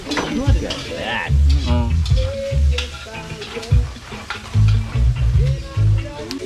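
Lechon pork belly fries and sizzles in a pan in a Philippine province kitchen, with steady hissing broken by stirring clatter, while people talk loudly throughout.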